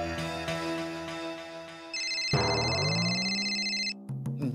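A mobile phone ringtone plays a steady electronic ring for about two seconds, cutting in over a low musical background in a home scene, then stops abruptly.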